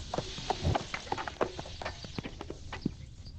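A donkey walks on hard ground in a pepper-growing hill village in China, its hooves clip-clopping in an uneven rhythm of sharp knocks close by.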